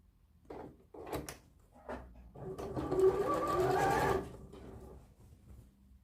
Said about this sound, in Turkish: Bakın overlock dikişini çizgiye getirerek kolumuzu dikiyoruz.